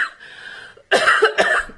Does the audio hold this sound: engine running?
no